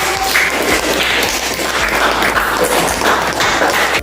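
A classroom group claps in loud, sustained applause during a lesson, the dense clapping steady and close for the full four seconds.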